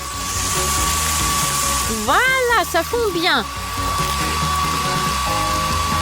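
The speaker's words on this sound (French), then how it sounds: "J'aurais besoin du sèche-cheveux. Oh, il faut que je l'allume. Ça souffle trop, là." A hair dryer blows hot air onto gummy candies to melt them, giving a steady, close whooshing whir throughout while a voice speaks briefly over it midway.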